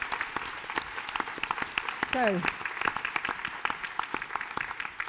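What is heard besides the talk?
audience round of applause for contestants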